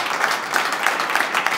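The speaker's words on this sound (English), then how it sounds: "Can we give him a round of applause?" Applause from a live-stream audience welcoming a new author, a brief burst of steady clapping at moderate volume with no voices over it.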